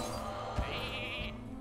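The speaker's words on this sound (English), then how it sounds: "It's now a sheep. Fear the sheep." A sheep bleat from the Polymorph spell in the card game Hearthstone rings out once, short and clear, layered over soft background game music.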